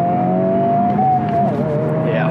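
A Honda Civic Type R pulls hard in second gear, its engine tone a steady, loud drone that climbs slightly, heard from inside the cabin with no pause for the whole stretch.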